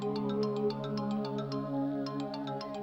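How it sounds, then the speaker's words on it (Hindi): A mobile phone rings with a bright, repeating electronic melody, steady and fairly close, with no one talking. "फोन बज रहा है तुम्हारा।"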